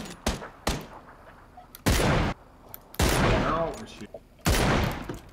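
Bursts of gunfire in PUBG crack out in quick loud volleys, several separate shots and short rapid strings spaced across the moment, with people talking over the game.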